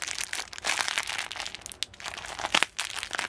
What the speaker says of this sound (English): If I could somehow magically find out how to tear this open.